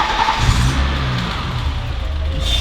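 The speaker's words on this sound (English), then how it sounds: "you can try starting it, see what happens." A teenager's project car engine fires up and revs, giving a loud, close burst of throaty revving that settles into a rough, steady running rumble.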